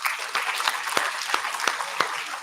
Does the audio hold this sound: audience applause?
yes